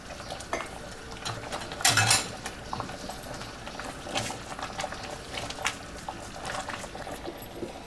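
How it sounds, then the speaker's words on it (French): Apricot jam cooks in a pot while a spoon or skimmer stirs and scrapes it, giving scattered clinks, scrapes and a brief louder clatter over a soft bubbling background. The sound is close and fairly quiet, with no talking. "je remue et j'écume quand c'est nécessaire"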